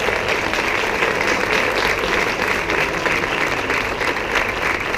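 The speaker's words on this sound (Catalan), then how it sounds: "Per favor, un aplaudiment a ell." A concert audience of the Societat Musical Bonrepòs i Mirambell band applauds a young musician. The clapping is dense, even and loud, with no pauses across the whole stretch.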